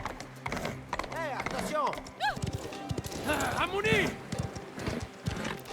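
Horse hooves clatter at a gallop in the Mafia video game, a quick irregular clip-clop mixed with whinnies and shouted voices over a busy game soundtrack.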